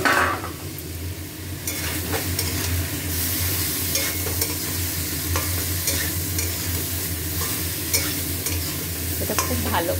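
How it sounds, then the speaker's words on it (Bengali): Potato and cauliflower frying with spices in a pan give a continuous loud sizzle and crackle, broken by repeated scraping stirs of a spoon against the pan. "মশলাটার সঙ্গে আলু কপি আর একটু ভেজে নেব"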